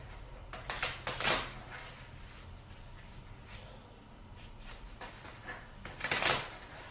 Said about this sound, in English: And you shuffle them and then take 2.